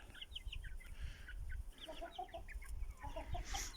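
Chickens cluck in a coop, a chorus of short clucks and chirpy calls from several birds at close to middle distance, steady through the whole stretch with no talk over them.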